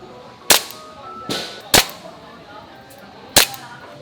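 Toy guns fire at a shooting game stall in Taipei's Shilin Night Market, four sharp, loud cracks spaced irregularly over a few seconds, with quiet crowd murmur between shots.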